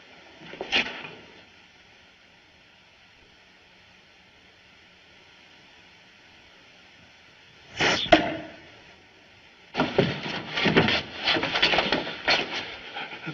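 An arrow strikes wood in a 1940s mystery film, landing as a sharp thud near the eight-second mark amid quiet, hissy background, followed by a burst of busy rustling and movement noise.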